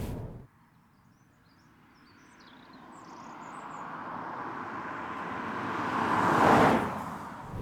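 A Toyota hybrid with a naturally aspirated V6, in sport mode, accelerates hard: after a brief sharp sound, the engine note rises steadily, grows louder and peaks near the end, heard from inside the car with no talking.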